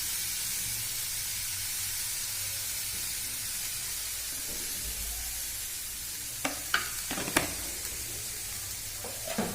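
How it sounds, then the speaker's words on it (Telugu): Chili powder stirred into carrots frying in a pan, a steady soft sizzle and hiss throughout with a few brief scraping clicks of the spoon near the end. "కారం వేసి ఇలా కలబెట్టుకోవాలి"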